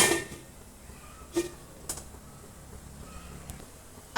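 A metal lid is set on a pot of boiling water steaming khaman dhokla, giving a few faint, brief clinks and clanks spaced apart over a quiet background.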